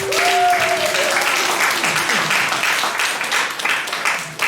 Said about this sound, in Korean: 격려하는 박수 하겠습니다.